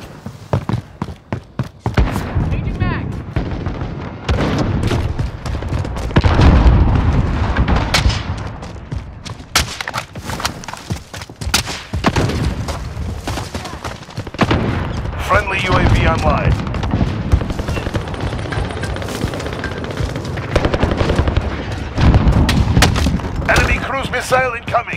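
Explosions and gunfire in Call of Duty: Modern Warfare Ground War on PS5, loud booms and rapid bursts of shots rumbling throughout, with in-game voices calling out over the battle.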